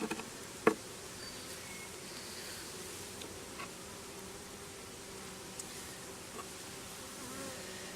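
Honeybees buzz around newly opened beehives, a faint, steady drone of many wings that holds for the whole stretch, with a soft click near the start.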